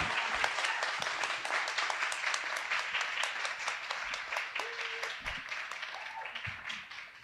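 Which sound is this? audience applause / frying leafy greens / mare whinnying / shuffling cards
audience applause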